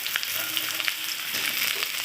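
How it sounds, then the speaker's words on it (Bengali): Eggplant and potato pieces fry in mustard oil, a dense, steady sizzle with small crackling pops, close and alone without talk. "বেগুন আর আলু একটু ভেজে নেব।"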